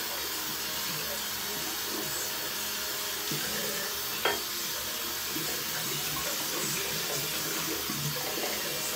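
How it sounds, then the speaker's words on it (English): Tap water runs steadily into a sink while a shaving brush and bowl are rinsed under it, a continuous close hiss with a single light clink of the bowl partway through. "rinse off the brush and the bowl real quick"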